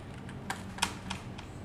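Code being typed on a computer keyboard comes through as a few sparse, light key taps, soft and close, with faint background hiss.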